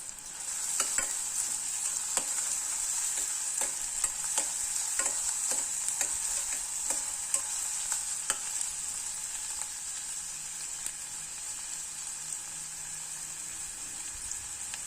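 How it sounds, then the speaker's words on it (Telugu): Chopped onions frying in 5-6 spoons of hot oil in a pressure cooker for a sorrel leaves and chana dal curry, a steady loud sizzle with occasional stirring clicks throughout, no talking. "ఆయిల్ హీట్ ఎక్కిన తర్వాత కట్ చేసి పెట్టుకున్న ఆనియన్స్ని ఇందులో వేసేద్దాం"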